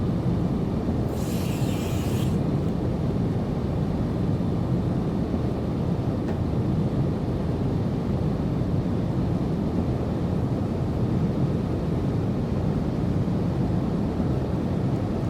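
An aircraft on final approach in Microsoft Flight Simulator gives off a steady, loud broadband engine and wind drone that holds unchanged throughout, with no talk.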